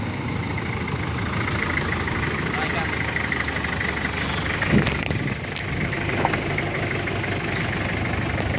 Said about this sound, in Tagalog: Sa tingin nyo ba, maingay yung makina?